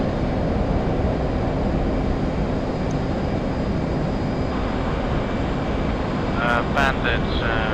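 An F/A-18C jet engine at full afterburner roars in the DCS flight simulator, a loud, steady, unbroken blast that fills the whole stretch, with a voice briefly talking over it near the end.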